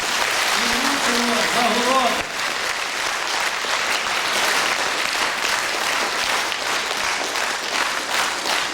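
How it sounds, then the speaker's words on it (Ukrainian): A voice speaks briefly in Ukrainian at the start over clapping, then sustained applause from a crowd continues, full and even, to the end. "давайте аплодисментами привітаємо їх всіх разом"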